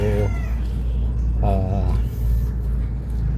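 Chickens cluck near a basic ground trap covered with soil, giving two short clucks over a steady low outdoor rumble.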